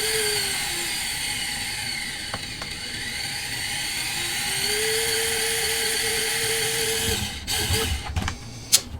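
The small electric motor of a Redcat Ascent 18 / SCX24 1/24-scale RC crawler whines at full speed, a thin steady high-pitched tone that rises and holds, ending in a few short clicks and knocks.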